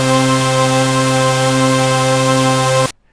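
A loud, sustained synthesizer stack chord, all voices playing C on a Casiotone CT-S1000V, holds steady on one pitch for about three seconds, then cuts off abruptly into silence.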